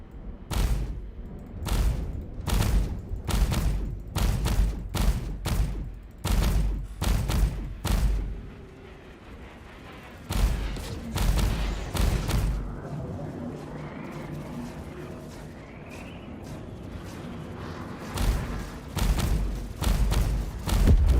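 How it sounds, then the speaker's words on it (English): Size 3 long-range missiles launch in the space game Star Citizen as a string of heavy, punchy booms, fired in quick bursts and then more sparsely, with a low rumble between shots. "So we're now using size 3 missiles. Hopefully that'll do the trick. Long range missiles they are as well."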